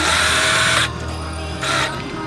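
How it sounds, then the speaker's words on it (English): An electric impact wrench snugging down cylinder head bolts on a Honda Prelude during a head gasket repair, two loud close bursts of whirring hammering, the first longer, with a quieter motor hum between them. "So I got my handy dandy little electric impact,"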